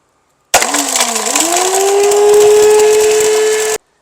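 A mixer grinder on its pulse switch whirs loudly in one burst, its motor pitch climbing then holding a steady high whine for about three seconds before cutting off.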